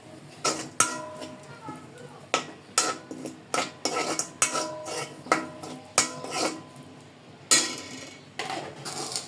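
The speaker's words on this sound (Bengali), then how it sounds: "এরপর মাছটাকে সুন্দর করে মশলার সঙ্গে নেড়ে নিব।" Fish with spices stirred in a pan, a steady series of sharp scraping clinks of a utensil against the metal pan, close and fairly loud, with a voice speaking over it.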